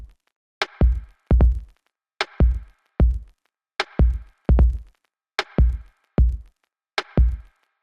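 A programmed drum groove loops evenly, with sharp snare cracks alternating with deep, punchy kick thumps. The pattern repeats several times, dry and clean with no other instruments.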